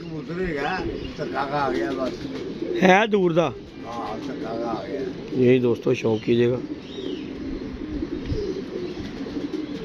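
A golden pigeon coos softly in short repeated phrases close by, while someone talks over and between the calls.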